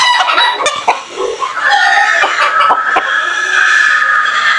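A hiraw gamefowl rooster on a farm crows loudly and close by, a long, strained call rising over short clucks and scattered noises around the yard.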